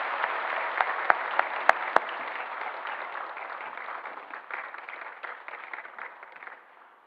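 A congregation claps during a Sunday church service to welcome and congratulate a newly registered member, with steady, even applause that carries on for several seconds before tapering off, punctuated early by a couple of sharp knocks.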